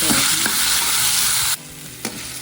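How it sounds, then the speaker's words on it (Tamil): Tomatoes sauté in a pan with ginger-garlic paste for a prawn gravy, making a loud close sizzle with stirring scrapes that drops to a quieter fry partway through. "ஒரு கொஞ்சம் அது வதங்கணும்னா தக்காளி போடணும் தக்காளி பழம்"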